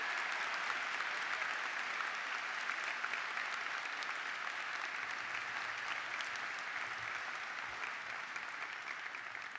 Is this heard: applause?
yes